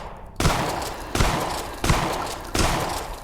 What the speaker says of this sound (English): we need the shotgun for this